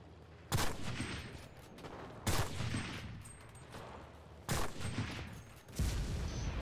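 Bursts of gunfire in the video game Enlisted, set in Normandy, come as four loud volleys of rapid shots spaced a second or two apart, with a steady game-ambience rumble between them and no talking.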